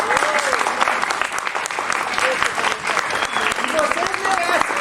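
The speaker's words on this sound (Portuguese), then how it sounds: "Uma salva de palmas para ele." A lecture audience claps loudly and continuously, with a packed crowd sound of many hands, cheers and whistles mixed in, and voices calling out beneath the applause throughout.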